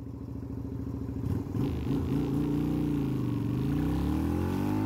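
A Yamaha Virago 250 (V Star 250) motorcycle with a rejetted carburetor, heard on a test ride: the engine note climbs and falls as the throttle opens, settling into a strong, close, steady drone with no talk.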